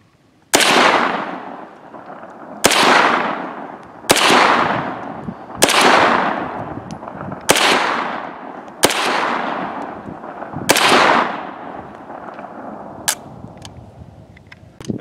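Golf balls are fired from a gun in six loud, close shots spaced a couple of seconds apart, each sharp crack trailing into a long echoing decay outdoors.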